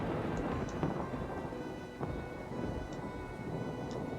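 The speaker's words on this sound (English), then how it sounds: "The boom of thunder silences me on the spot" Steady rain patters over a low, rumbling roll of distant thunder, with a few scattered drips ticking on a surface.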